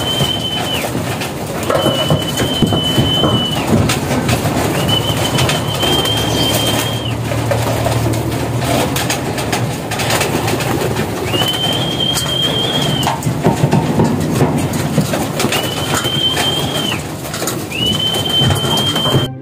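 Racing pigeons coming down to their loft after a race, with repeated bird calls over a steady outdoor background and faint rumbling; no one speaks.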